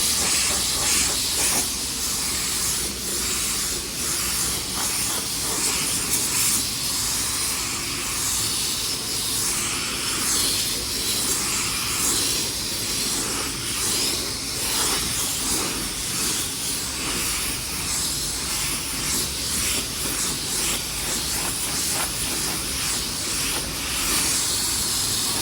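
A spray gun hisses steadily and continuously while shooting gold paint onto the bottom half of a two-tone job, a close, broad airy rush that barely varies throughout.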